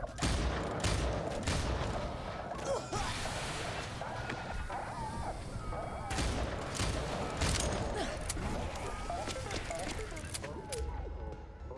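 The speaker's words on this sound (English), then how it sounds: "that's a nail gun I found, I guess" Nail gun firing in the zombie game Dead Island 2, a run of rapid mechanical shots and thumps mixed with combat booms and creaks, fairly loud and busy, with someone talking over much of it.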